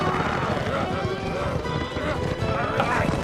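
Horses in an Old Testament battle scene clip-clop at a run with occasional whinnies, the hoofbeats forming a dense, continuous clatter under a busy, loud mix.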